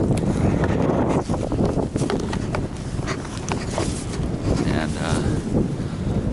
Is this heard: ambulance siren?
no